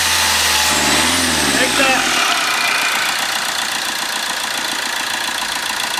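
A Fiat Linea car engine with slight oil leaks, undergoing injector maintenance, rises in a loud rev and then settles into a steady idle, with people talking over it.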